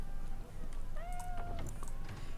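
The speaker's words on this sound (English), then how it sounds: "I've been saying kitty too much and my cat just came over" A pet house cat gives a single drawn-out meow that rises and then holds steady for about half a second, close by, over a constant bed of background noise and faint game sounds.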